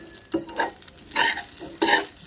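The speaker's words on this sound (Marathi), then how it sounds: "मीठ घालून इथं छान असं आपल्याला परतून घ्यायचं आहे साबुदाणा" Sago pearls being tossed with salt in a pan for nylon sabudana, with a few distinct bursts of scraping and stirring against the metal, close and moderately loud, no talking.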